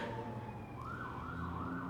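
Emergency vehicle siren wailing outside at a distance, a faint rising and falling tone over low background hum.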